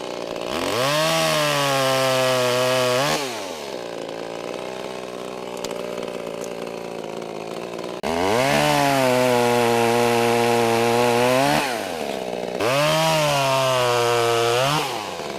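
A Bad Boy gas commercial chainsaw, newly bought and not yet broken in, runs loud and close, revving high, dropping to a lower idle, then revving up again twice.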